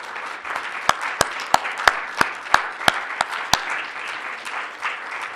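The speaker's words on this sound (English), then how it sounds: "let's give each other and receive a welcome round of applause" An audience at a scientific conference closing session claps, heard as a run of sharp, evenly spaced claps from a nearby person over a soft background of wider applause.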